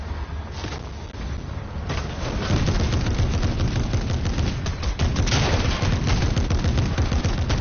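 Rapid automatic gunfire in a Fortnite Chapter 3 match, dense bursts of shots running almost continuously, growing louder and heavier after the first couple of seconds.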